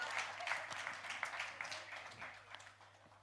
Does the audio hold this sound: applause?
yes